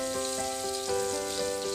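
Steady crackling sizzle of batter-coated lampan fish frying in oil, close and continuous, with faint tonal hum in the background.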